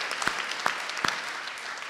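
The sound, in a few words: audience applause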